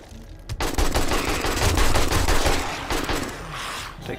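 An AK rifle in 7 Days to Die rips off a long, loud burst of automatic fire that starts abruptly after a brief pause, then trails into scattered shots.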